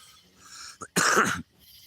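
A single harsh cough right after lighting a cigarette, a short raspy burst preceded by a brief catch of breath, close and loud against a quiet room.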